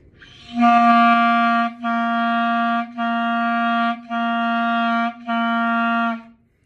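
Five sustained clarinet notes at one pitch, each separated by a brief tongued break, played alone and close with steady volume.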